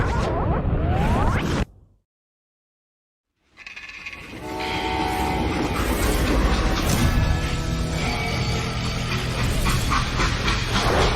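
Freight train in Call of Juarez: Gunslinger, a brief rumble, a sudden silent gap, then loud rolling clatter with metallic squeals and screeches building and continuing steadily.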